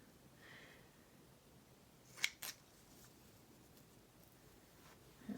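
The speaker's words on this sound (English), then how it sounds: "I don't recall it being this difficult last time to get the gauze to cut straight." Scissors snip through gauze for journal decorating, two short quiet cuts in quick succession against near silence.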